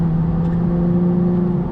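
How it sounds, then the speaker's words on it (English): A 2019 McLaren 570S Spider engine hums in a steady, loud drone heard from inside the cabin with the small rear window lowered, a constant tonal note with no speech. "So I can roll it down and it lets in just a little bit more engine noise."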